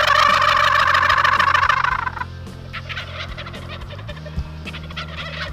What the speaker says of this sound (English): They're gobbling like that.